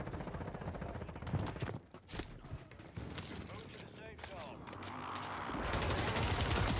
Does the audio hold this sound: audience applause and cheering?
no